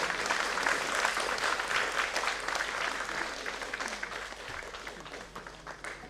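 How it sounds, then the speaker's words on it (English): A room full of people at an Indian classical music event applauding steadily, a dense wash of clapping that stays fairly even and fades only slightly toward the end. "a thunderous applause is in the order."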